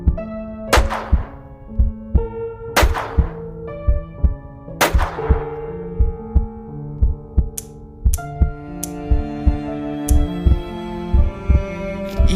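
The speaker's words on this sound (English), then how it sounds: "I could still hear the heart beating." A dramatised heartbeat from a one-man vocal play of The Tell-Tale Heart: deep, regular thumps pulse steadily and loudly, with swelling musical tones and sharp accents layered over the throbbing rhythm.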